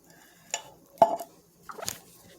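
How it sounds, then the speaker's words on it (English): Corn casserole ingredients of drained whole kernel corn, cream style corn, sour cream and butter stirred together in a dish, a few soft wet scrapes and squishes with brief utensil clinks against the bowl, close and fairly quiet. "Mix it all together."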